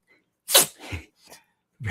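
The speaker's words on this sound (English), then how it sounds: "he's sneezing all over me" A 15-year-old Chihuahua sneezes close by in a few quick, sharp bursts, one strong snort followed by two softer ones, with no talking.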